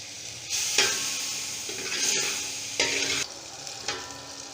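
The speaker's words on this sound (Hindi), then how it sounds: "ये मक्खन के साथ ही हमने इसमें ऑयल डाल दिया।" Oil is poured into melted butter in a hot pan, giving a bright sizzle and frying hiss that swells in several bursts, with occasional stirring scrapes in between.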